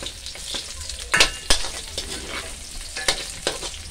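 Ginger sautéing in a pan while snails are cooked, a constant low sizzle punctuated by a series of sharp spatula scrapes and clinks at uneven intervals, close and fairly loud.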